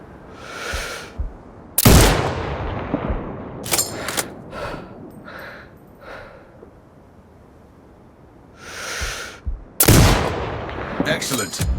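Gunshots in the game Sniper Ghost Warrior Contracts 2: a few loud, sharp cracks spaced seconds apart with fainter shots and rumbling echoes in between, over quiet ambience and occasional game voice.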